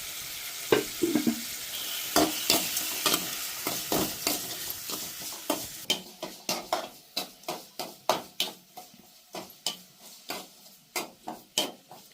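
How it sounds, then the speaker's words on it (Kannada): Tomato fries in a village kitchen pan while a spoon stirs it. A soft sizzle fades behind a run of sharp, rhythmic spoon taps and scrapes that grow more regular toward the end. No speech. "ಟೊಮ್ಯಾಟೊ ಏನೈತಿರ್ಲಿ ಚಲೋ ತಂಗಿ ಫ್ರೈ ಆಗುತ್ತಾಕ ಏನೈತಿರ್ಲಿ ಸ್ವಲ್ಪ ಚಮಚ ತೊಗೊಂಡು ಆ ಕಡೆ ಈ ಕಡೆ ಒಂದು ಸ್ವಲ್ಪ ತಿರುಗಾಡ್ಬೇಕಾಕೈತ್ರಿ"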